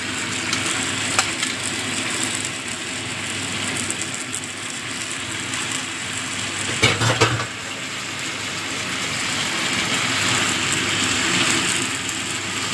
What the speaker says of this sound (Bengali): সিমের দানাটা দিয়েও ভালো করে মিশিয়ে দেবো